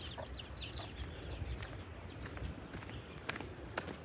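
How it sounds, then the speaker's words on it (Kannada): Faint chirping and clucking of poultry over a steady outdoor rumble, with soft shuffling steps and a few brief peeps near the end. "ಕೋಳಿ ಮರಿ, ಕೋಳಿ ಮರಿಗಳು ಇಷ್ಟೊಂದು"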